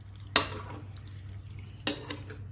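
A utensil stirs salt, vinegar and sugar into a mixed vegetable pickle, giving two distinct scraping clinks against the bowl over a low steady background hum.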